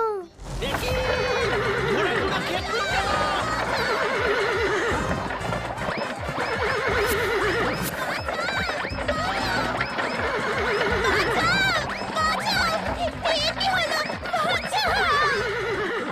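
Cartoon horses neigh and whinny repeatedly over a dense, loud musical backdrop, with rising and falling whinnies throughout.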